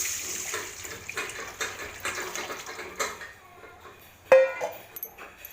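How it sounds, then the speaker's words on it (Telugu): Rasam is poured into a pan, a soft liquid splash and trickle that ends in a sharp clatter near the close, with no talking. "రసాన్ని ఇందులో వేసుకోవాలి."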